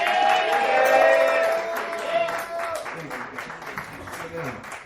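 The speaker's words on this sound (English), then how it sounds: "Another round of applause for Adam Zoulek" Comedy club audience applause and cheering, loud at first and tapering off, with a voice speaking over the crowd.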